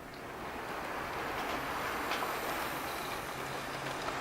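Model train locomotive running steadily around a track, a continuous broadband rolling rumble with faint rail clatter, moderately close and without voices.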